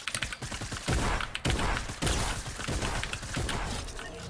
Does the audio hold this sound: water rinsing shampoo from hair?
no